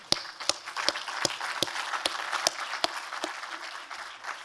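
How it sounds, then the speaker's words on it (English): Audience applause at a Bank of England central bank communications conference, with many hands clapping steadily and a few sharp, louder claps standing out near the microphone, continuing evenly throughout. "round of applause, actually, for Christine and the team."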